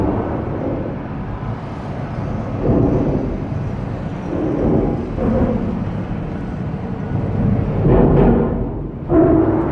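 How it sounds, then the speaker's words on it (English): Cars crossing the Golden Gate Bridge overhead, heard from underneath the steel structure as a steady low rumble with repeated swells and thumps as vehicles pass above, fairly loud and continuous. "That sound you hear is the cars actually driving right above us."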